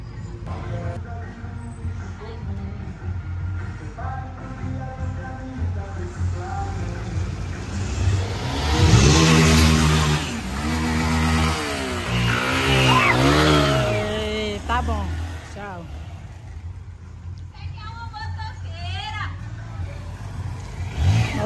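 An old motorcycle engine sputters, stalls and revs unevenly, rising and falling in pitch, with voices talking over much of it.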